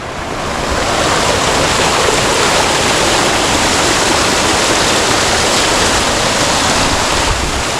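Spring water pours steadily from the Huerto Malillo fountain in the Sierra de las Nieves, a close, loud, continuous rushing splash that holds even throughout with no voices.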